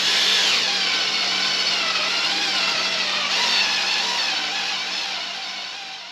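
A power drill with a tapered bit bores a hole, giving a loud, continuous high-pitched grinding whine that shifts slightly in pitch and fades a little toward the end, with no voices.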